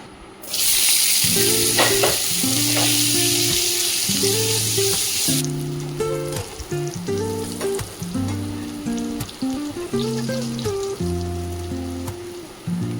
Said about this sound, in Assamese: আলুখিনি এতিয়া পেন এখনত নিমখ আৰু হালধি অলপ দি ভালদৰে ফ্ৰাই কৰি ল'ম।